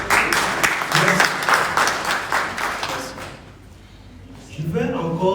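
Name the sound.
audience applauding at an award ceremony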